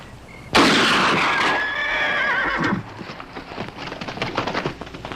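A horse gives a loud, long whinny close by in a western film scene, followed by softer clip-clopping hooves and a scattered, rain-like patter, with no talking.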